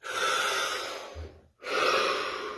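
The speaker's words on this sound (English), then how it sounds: "Deep breath." One deep breath taken close to the mic: a long audible inhale, a short pause, then a steady drawn-out exhale, with nothing else heard.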